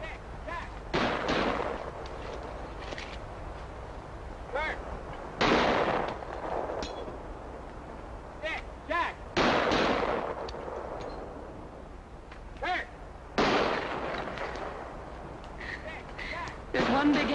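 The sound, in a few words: gunshots during target practice, film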